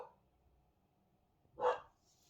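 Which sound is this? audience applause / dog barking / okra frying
dog barking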